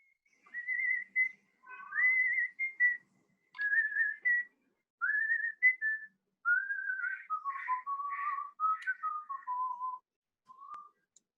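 A person whistles a bright tune alone, a string of clear sliding phrases with short pauses between them, close and moderately loud against a silent background.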